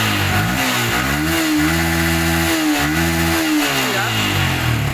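A Yamaha Vixion motorcycle engine showing fault code 46 runs close by, a steady, loud idle with a slight rise and fall in revs throughout.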